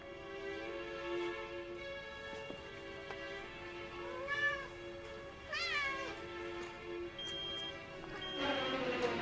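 A cat meows in the American Psycho film scene at an ATM with a stray cat: several drawn-out, rising-and-falling meows over a steady hum, fairly close and clear.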